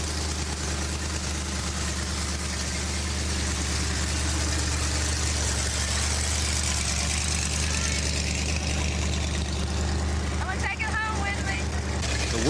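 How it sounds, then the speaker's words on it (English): A hot rod car engine from the 1992 Goodguys Indy Hot Rod Happening in Indianapolis runs at a steady, rumbling idle close by, and a voice talks over it. "Fire it up, slip it in gear,"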